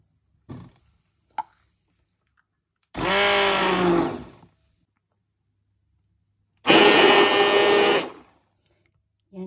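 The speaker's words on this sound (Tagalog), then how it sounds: "Gamit tayo ng hand blender" A hand blender purees vegetable soup in two loud, steady whirring bursts of a second or so each, separated by silence and preceded by a couple of faint knocks.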